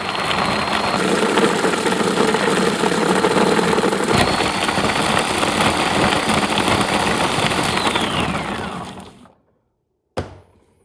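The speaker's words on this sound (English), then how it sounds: "the machine can process up to about 200 grams of chestnuts per" A food processor fitted with a homemade add-on for peeling chestnuts whirs loudly and steadily for about nine seconds, winds down to silence, then gives one sharp click.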